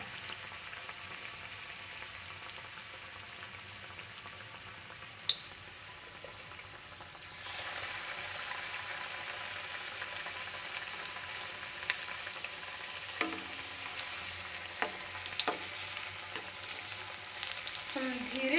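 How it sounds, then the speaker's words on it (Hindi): Arbi pakode, battered taro root fritters, deep frying in hot oil with a quiet, steady sizzle that swells after a sharp clink and continues with occasional light taps of a utensil. "धीरे इनको पकाएंगे हम इनको डीप फ्राई करेंगे"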